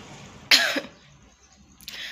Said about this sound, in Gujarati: તો હજી તે મારી શરદીનું ઉધરસ મટતા નથી